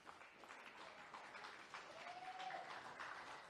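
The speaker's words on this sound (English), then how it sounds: "You can hear the generous crowd here at Seaford Oval acknowledging a good win there" A generous crowd at Seaford Oval applauds a 64-0 schoolboy rugby league win, the clapping soft, distant and steady throughout without talk.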